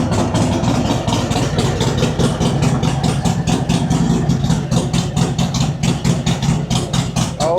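A Harley-Davidson Road Glide with an M8 engine idles loud and close, its lumpy, regular pulses thumping steadily with no talk over it.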